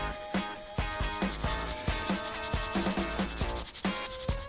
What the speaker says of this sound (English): we'll be only using a sandpaper to just get rid of the seam